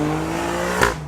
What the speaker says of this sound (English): This engine is insane.